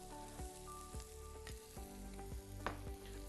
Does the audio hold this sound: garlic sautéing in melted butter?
yes